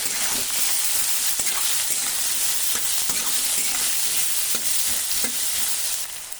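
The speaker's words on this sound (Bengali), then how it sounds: "এবার এগুলো একত্রে একটু লাল লাল করে ভেজে নেব।" Chopped chili, onion, garlic and ginger paste frying together in a pan for a Bengali fish fry, a loud steady sizzle with regular scraping stirs close by and no voices.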